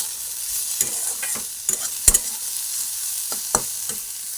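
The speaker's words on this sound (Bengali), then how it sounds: "দেখো বন্ধুরা আমার উচ্ছে ভাজা হচ্ছে" Bitter gourd slices frying in a pan, a steady soft sizzle running throughout with several sharp clinks and scrapes of a spatula stirring against the metal, close and alone with no talk.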